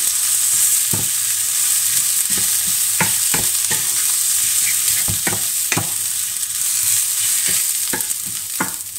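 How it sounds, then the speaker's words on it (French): Rice and onions being stirred in a frying pan for a shrimp and courgette risotto: a steady close sizzle with repeated scraping spoon strokes against the pan, no talking. "Je mélange bien mon riz."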